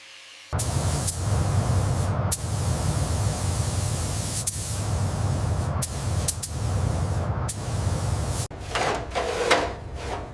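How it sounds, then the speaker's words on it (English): Angle grinder smoothing weld seams on a car body during a full restoration, a steady loud abrasive roar with brief breaks and shifts in pitch as the disc works the metal, no voices. "A mechanic grinds welds smooth, transforming rough metal into a seamless repair."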